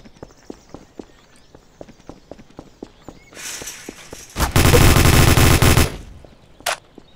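Gunfire in Garry's Mod, a long, loud burst of rapid automatic shots following a series of soft rhythmic footsteps, then one short final burst after a brief gap.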